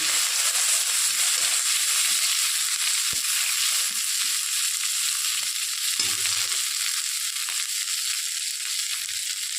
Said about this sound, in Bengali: এবার আমি মিট বানাটাকে ভেজে নেব